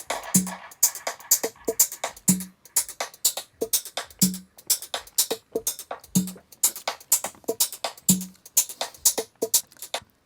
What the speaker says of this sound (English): the drums, like the hi-hats, the congas, the little claps